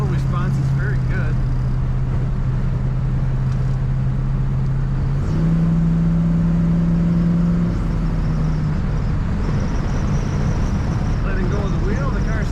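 A 1967 Ford Mustang engine pulls steadily as the car accelerates on the road, a loud continuous low drone whose pitch steps upward midway, with tire and road noise throughout and someone talking over it.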